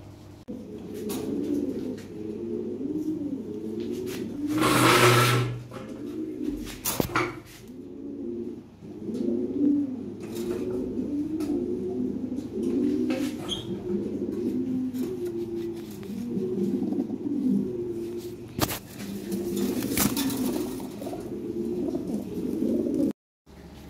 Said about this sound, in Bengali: কবুতর বোঝার জন্য